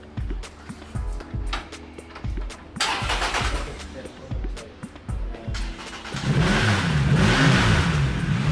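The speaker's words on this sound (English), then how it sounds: "Could you rev the engine for us, please?" A motorcycle engine revs in short bursts, a few loud throttle blips rising over idle, then a sustained higher roar near the end, with people talking around it.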